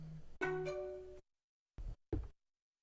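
Phone alert with a short two-part tonal chime, then two brief muted knocks after a pause, fairly quiet and alone.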